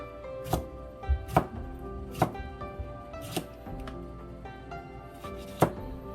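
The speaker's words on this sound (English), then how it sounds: "We cut the cucumber first." A knife chops a fresh cucumber on a cutting board, seven or eight crisp, separate strokes at an uneven pace in a quiet kitchen.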